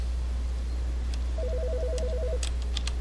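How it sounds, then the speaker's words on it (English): An electronic phone ring trills for about a second over a steady low hum, followed by a few soft clicks, in the video game The Stanley Parable: Ultra Deluxe. "Speaking of messages, phone's ringing."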